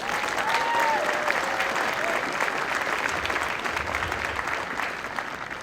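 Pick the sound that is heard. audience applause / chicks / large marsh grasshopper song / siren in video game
audience applause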